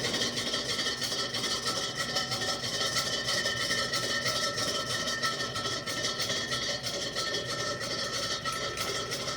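A 52-inch Cheshire ceiling fan spins at high speed, giving a steady, fairly quiet whooshing hum with faint mechanical rubbing underneath, continuous and unchanging throughout with no voices.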